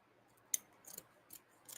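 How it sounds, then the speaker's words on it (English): Scissors snip through bubble wrap being cut into three pieces for a wreath, a sharp click followed by a few softer crinkly cuts, close and quiet with no talking. "I'm going to cut it into 3"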